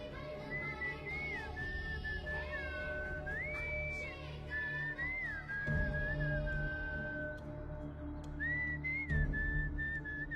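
A person whistles a wandering, melodic tune in a dramatic scene from a Hindi-dubbed action film, the clear whistled notes sustained and sliding over a steady low background drone for about ten seconds.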